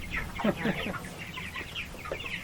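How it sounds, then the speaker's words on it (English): Several meat chickens cluck and squawk excitedly nearby, a busy overlapping chatter of short calls. "Our chickens are going crazy."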